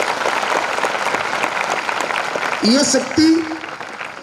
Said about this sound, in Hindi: एक बार हमारे राष्ट्रपति महिला के लिए ताली बजनी चाहिए